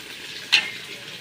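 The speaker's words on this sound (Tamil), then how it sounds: "தண்ணி விட்டு வேகுது வேகட்டும்" Chicken kurma seasoned with turmeric and salt cooks in a pan with added water, giving a soft steady hiss with one brief, sharper sizzle burst partway through.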